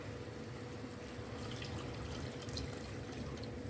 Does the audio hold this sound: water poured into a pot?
yes